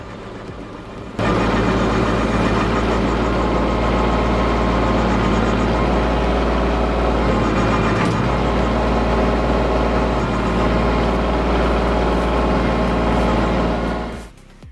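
A tractor-driven stump grinder powered through a 540 RPM PTO shaft, its heavy steel flywheel shaving down roots of an invasive stump, roars loudly and steadily after a sudden start, then fades at the end.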